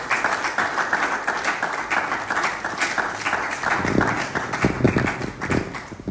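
A sales bootcamp audience claps in a brisk, fairly close burst of applause with some rhythmic, heavier hand strikes building toward the end.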